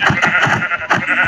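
A sheep in a capture-the-sheep video game minigame bleats in quick, loud, wavering bursts, repeating rapidly over about a second and a half with no talk.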